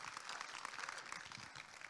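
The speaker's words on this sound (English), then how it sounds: "clap if you understand what I just said" An audience claps together during a spoken talk, a brief burst of fairly soft, dense applause heard from within the room.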